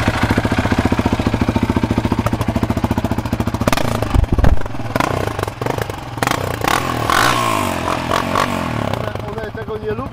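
A Yamaha Raptor 700R quad on its original exhaust idles with a rapid, even thump for several seconds, then rises into louder revving and clatter up close while people talk nearby.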